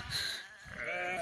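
A goat in Kashmir bleats close by in a single drawn-out, wavering cry lasting about a second, fairly loud and without talk over it.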